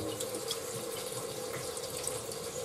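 Water pumped from a pump runs steadily into a pot of rice being rinsed, a continuous splashing and trickling stream close by, with no talking.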